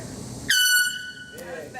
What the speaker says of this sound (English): this is a nice air horn